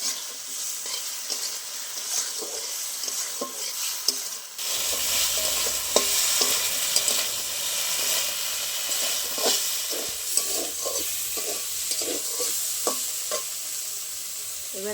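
Bitter gourd pieces frying in ground spice paste, a continuous close sizzle broken by repeated scrapes and knocks of a spatula as the pan is stirred.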